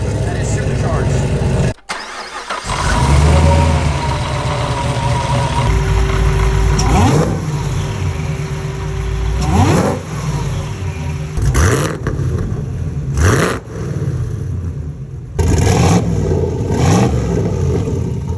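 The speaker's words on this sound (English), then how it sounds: "I think the Camaro's exhaust sounds better because you can actually hear the chop and it's not muffled out" A supercharged Camaro engine starts and revs several times, loud and close, with a choppy idle between the revs and a voice talking over it.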